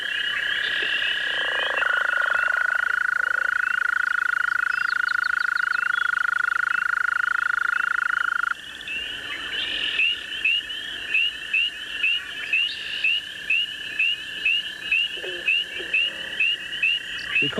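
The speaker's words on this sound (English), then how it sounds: "Recording frogs and toads in an area like this is relatively easy." Frogs and toads calling in a wild wetland: a long steady trill runs for several seconds, then gives way to a rhythmic series of repeated croaks, loud and close with other calls in the background.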